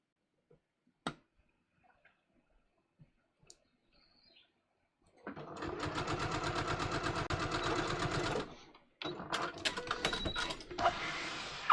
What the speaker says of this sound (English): So all I'm stitching through is that seam allowance that I pressed up on top of the window through the pocket bag.